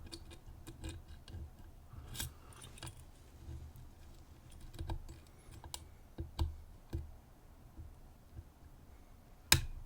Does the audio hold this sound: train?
no